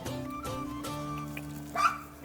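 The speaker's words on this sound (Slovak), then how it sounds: "Na ten zadu je dobrý psík." A dog barks and yips in a few short bursts, heard over a noisy, tonal background with a louder cry near the end.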